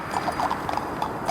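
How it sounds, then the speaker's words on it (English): Horses' hooves clip-clop at a steady, rhythmic pace as they pull a carriage along a road, the hoofbeats close and clear with no talking. "Faster, lazy horses, faster!"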